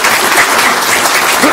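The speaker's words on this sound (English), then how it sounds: "How about a round of applause?" Steady applause from an audience at a school district board of trustees meeting, loud and continuous throughout with no talk over it.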